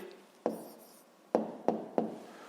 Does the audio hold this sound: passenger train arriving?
no